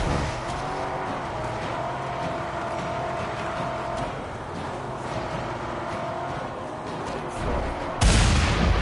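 Continuous loud rumbling action from the video game Mad Max, with engine-like roar and booming explosions throughout, ending in a sudden louder burst near the end.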